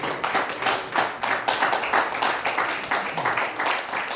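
A church congregation at a fasting service claps steadily in a brisk rhythmic pattern, loud and close, the sharp hand claps repeating without a break and no voices standing out.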